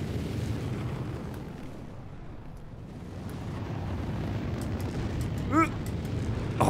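Gunfire in the space game Star Citizen: a low, steady rumble of engines and battle noise, broken late by a cluster of sharp shots and a brief whistling tone.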